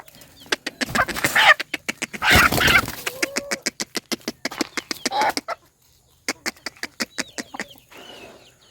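A young white hen on a farm clucking in rapid, steady runs of short pulses, close and clear, with brief pauses and some rustling and handling noise mixed in.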